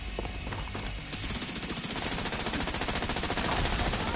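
Sustained automatic weapon fire in the shooter video game The Division 2, a loud, dense stream of rapid gunshots starting after a few scattered shots and continuing without pause to the end.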